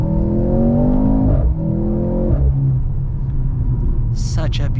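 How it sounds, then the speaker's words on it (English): A 2023 Mercedes-Benz C43 AMG with a 2.0-litre turbocharged four-cylinder accelerates hard in sport plus mode, its exhaust droning and rising through gear changes, loud and close, with a voice talking over it. "Such a beautiful sounding exhaust from this"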